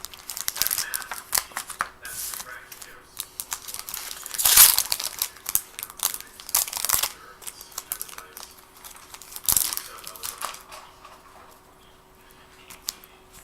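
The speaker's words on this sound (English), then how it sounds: "So let's get cracking packs." Magic The Gathering Dominaria booster packs being opened by hand, with close crinkling and tearing of foil wrappers and shuffling of cards in irregular bursts, no voices.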